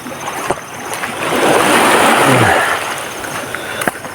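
Rough sea waves breaking on a shore, a loud rushing surge that swells through the middle and then recedes, with low turbulent water noise underneath and no voices.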